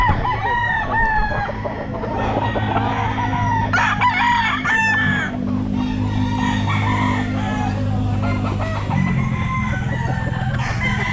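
A Golden Boy SBR stag rooster crows at a busy pet market, loud and near, over a steady low hum and crowd bustle, with other fowl clucking nearby.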